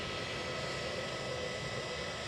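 Aer Lingus ATR 72 turboprop airliner at Edinburgh Airport, heard as a steady, even engine roar that holds at constant loudness throughout without any talk.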